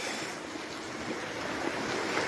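Rough, agitated sea with surf washing and churning steadily along with wind noise, a continuous broadband roar at moderate distance and no voices.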